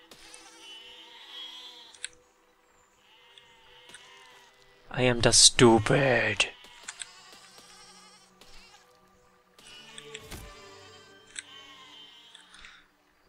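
Mountain sheep bleat in the physics-building game Besiege, a loud burst of bleating in the middle with a short cry later, while someone talks over the game sounds.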